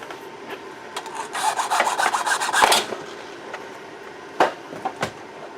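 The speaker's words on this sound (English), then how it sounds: "hopefully I can get it out with my 10mm wrench" A 10mm wrench works at a fused bushing nut on a 1983 Honda Nighthawk, giving close, rapid rasping and scraping strokes in a burst, then a few sharp isolated clicks and knocks, with no voices.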